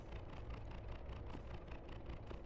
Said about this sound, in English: That's the sound of a car?